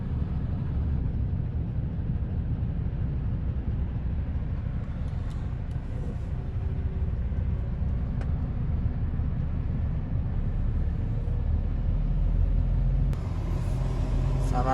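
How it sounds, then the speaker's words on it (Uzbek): Cars in a traffic jam on the road near Samarkand give a steady low engine rumble, heard from inside a vehicle, continuous and even, with a faint click or two. "Probka."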